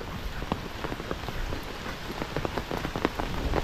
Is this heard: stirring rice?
no